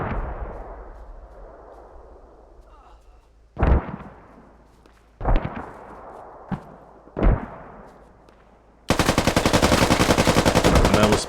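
Gunfire in the military shooter game Squad on the Gorodok map: a few heavy, echoing single shots spaced apart, then a sustained loud burst of rapid automatic fire at the end.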